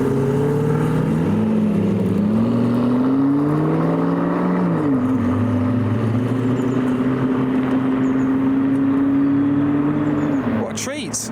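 A convoy of hypercars including a McLaren P1 drives past, a loud continuous engine roar that rises and shifts pitch as cars pass close by, with voices talking over it.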